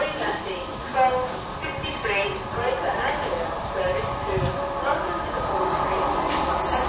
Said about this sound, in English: In coming in distance now into Manningtree is a freight liner coming through.